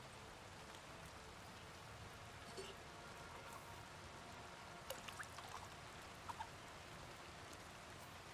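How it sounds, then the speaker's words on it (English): Steady rain falls in the medieval video game Kingdom Come Deliverance 2, a faint, even hiss of downpour with a few scattered drips and small clicks and no talk over it. "And how it's raining in here."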